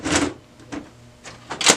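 A toner cartridge being slotted back into a Brother MFC L5850dw laser printer, giving a few sharp plastic clicks and knocks in quick succession, close up with no talking.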